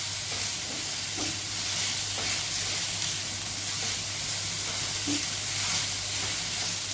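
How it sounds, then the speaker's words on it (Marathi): Vegetable momo filling tossed in a pan over a high flame gives a steady bright sizzle with a faint hiss, broken by soft scraping stirs now and then, close and even throughout. "आपण फास्ट गॅसवर परततोय, एकसारखं मिक्स करायचं."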